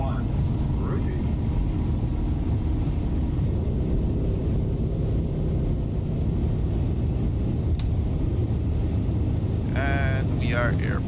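A simulated airliner takes off in Microsoft Flight Simulator 2020 from Newark, a loud continuous engine roar and rumble with a short whining tone near the end, while a person talks over it.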